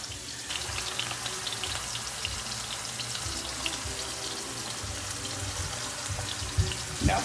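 Blackened chicken frying in oil in a pan, with a steady close sizzle and crackle across the whole stretch and a few louder pops near the end.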